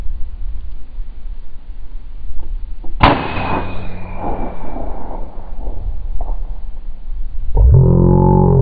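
A .357 caliber Benjamin Bulldog big-bore air rifle fires at a ground squirrel outdoors, a single loud sharp crack with a short ringing tail over a steady field background, followed by a fainter thump and faint rustling.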